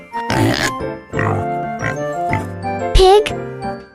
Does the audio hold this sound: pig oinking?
yes